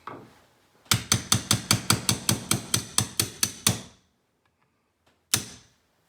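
Steel punch struck repeatedly while seating a part in a 1911 pistol during reassembly: about a dozen sharp, evenly spaced metallic taps in quick succession, close and loud, then a pause and one final tap.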